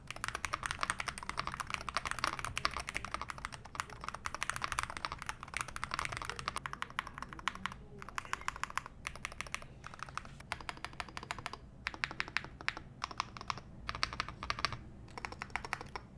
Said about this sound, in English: Let's do a typing test.